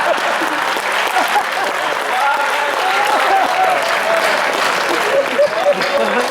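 A crowd at a Hindi comedy poetry gathering claps loudly and continuously, with scattered shouts and laughter mixed into the steady applause.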